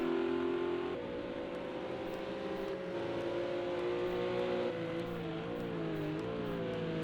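A Ferrari GT3 race car engine in Project Cars 2 at Watkins Glen holds a steady loud drone, its pitch sagging and wobbling as the car brakes hard, with no break in the sound.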